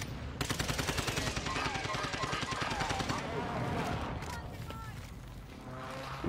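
Rapid automatic gunfire in a video game, a dense continuous rattle of shots close up that runs for several seconds, with players talking over it.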